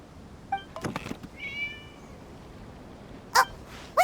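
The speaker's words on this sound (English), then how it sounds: "It was just a cat." A cat meows a few times in a Genshin Impact event quest, short separate calls with gaps between them. Clear and fairly close, with a couple of sharp clicks near the end and no talking.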